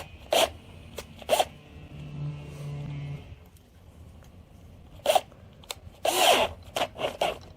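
A stainless steel no-hub pipe coupling is tightened with a power driver in loud, close bursts of whirring ratchet, two early and several more later, separated by quieter handling noises and a brief low hum.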